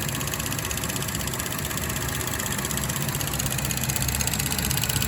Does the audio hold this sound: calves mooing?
no